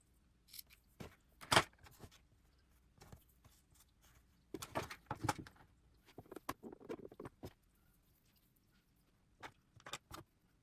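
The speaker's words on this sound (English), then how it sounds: "Cut 2 equal pieces of elastic." Scissors snip through two pieces of sewing elastic for a blouse, making a few sharp cuts spread over several seconds alongside light handling noises in a quiet room.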